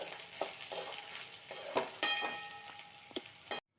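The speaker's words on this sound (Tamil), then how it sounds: "சேர்த்துட்டு ஒரு பரட்டு விட்டுண்டு அடுப்பை ஆஃப் பண்ணிடலாம்." Sliced okra fries in a pan with grated coconut and curry leaves, sizzling steadily while a spoon stirs it in several scraping strokes and light knocks against the pan, close and without talk.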